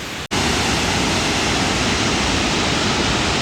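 A waterfall at Vihar lake pours in a loud, dense, unbroken rush of falling water, close by, interrupted only by a split-second dropout at the start.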